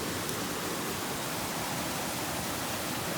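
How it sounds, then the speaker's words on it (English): A fast, steeply descending mountain creek near Lake Louise in the Canadian Rockies forms one long continuous waterfall. It makes a steady, dense, close rushing roar with no pauses. "It is just one long, non-stop rapid waterfall"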